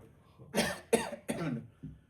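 Three forceful coughs about a third of a second apart and close by, with a weaker fourth cough trailing after them.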